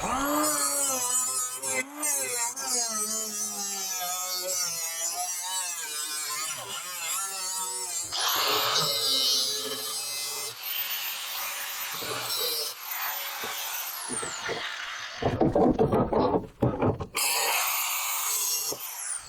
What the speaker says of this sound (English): all I'm going to do is just take the grinding wheel and cut right through here